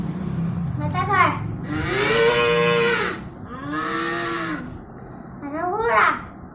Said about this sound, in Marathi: आता गाय,